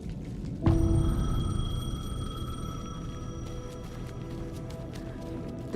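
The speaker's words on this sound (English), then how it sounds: "The payphone was ringing." Payphone ringing in the video game Alan Wake 2: a sharp electronic ring starts abruptly and holds as a steady tone with overtones over a low rumbling ambient bed, fairly close and alone.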